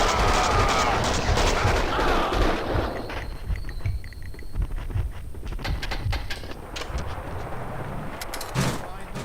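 Gunfire in the video game Max Payne on the original Xbox: a dense stretch of shots and impacts mixed with game sound and voices, loud throughout with a brief quieter dip midway.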